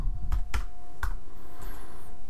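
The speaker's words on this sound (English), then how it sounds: "typing my name" Three or four sharp, separate keystrokes on a computer keyboard as a name is typed, close and fairly crisp over a steady low room hum, with a faint high whine near the end.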